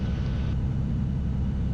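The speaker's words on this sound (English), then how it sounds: "Another big plane coming in." A big airliner at Boston Logan airport rumbles steadily in the distance, a low continuous engine roar heard from the ground without any voices.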